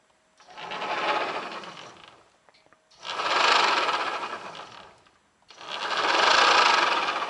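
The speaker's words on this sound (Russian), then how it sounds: "включаем зажигание нашего электродвигателя" An electric motor fitted to a Dnepr motorcycle spins up and runs, whining and whirring in three long bursts that rise and fall, with brief pauses between them and no talk.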